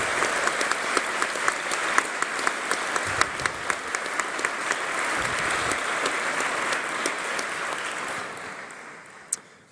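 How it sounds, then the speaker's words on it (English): An audience at a university graduation ceremony applauds steadily, many hands clapping at close range, then the clapping thins out and fades near the end. "So a round of applause for our musicians."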